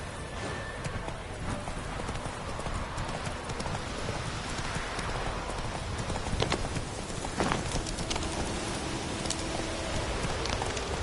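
Roach, a horse in The Witcher 3, gallops in a steady clip-clop of hooves that runs throughout, loud and close, with faint rain-like patter underneath.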